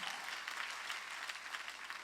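A church congregation at a Sunday worship service claps together on the preacher's cue. The clapping is dense and continuous, somewhat distant and muffled, with no voices over it.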